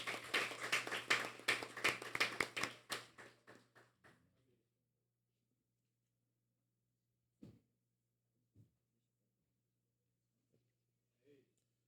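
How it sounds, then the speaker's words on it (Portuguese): A short burst of applause from a small group at a formal session of a state legislative assembly fades out after a few seconds, followed by near silence with a few isolated taps. "vamos aplaudir o Senhor Jesus"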